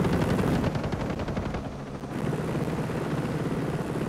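Automatic gunfire in the video game Ghost Recon Breakpoint during a fight near a helicopter: a loud rapid burst of shots rattles for about two seconds, then gives way to a softer mechanical rumble.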